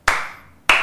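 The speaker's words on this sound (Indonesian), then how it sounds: "Tepuk tangan lagi." Two sharp, separate hand claps ring out about half a second apart at a personal finance talk for young people. Each is loud and close, with a short, fading tail, and no talk is heard.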